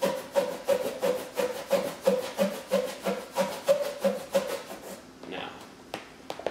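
A balloon rubbed briskly with a shirt makes rhythmic squeaky scraping strokes, about a dozen back-and-forth rubs in a steady pattern, close and fairly loud, ending with a few soft rustles.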